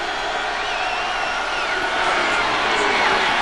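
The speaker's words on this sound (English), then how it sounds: "Crowd trying to generate some enthusiasm for the defense" A stadium crowd roars and cheers for the defense at a 1998 college football game between San Jose State and Oregon. The wash of noise is steady and distant and swells slightly toward the end.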